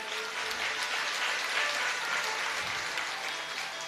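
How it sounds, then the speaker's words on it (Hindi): Loud, sustained clapping from an audience at a Hindi religious discourse, a dense steady wash of hands lasting the whole stretch without voices. "ताली में भी कंजूसी करते, जोर से बजाओ।"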